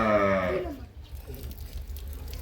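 Cows and calves on a farm in Dinajpur, one animal giving a loud, drawn-out moo with strong harmonics that fades after half a second, followed by quiet rustling farmyard background.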